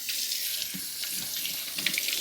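Water runs steadily from a touch faucet into a sink as hands are washed with soap, a continuous close hiss with faint splashing shifts.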